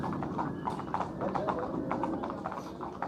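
Horses shift about in stables, their hooves clip-clopping in an irregular rhythm against a steady background murmur, fairly close but at moderate volume.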